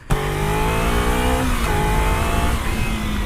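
A Kawasaki Z250 motorcycle engine revs hard and steady, its pitch climbing in strong pulls with a brief dip midway, loud and close with a raspy exhaust note and no talking.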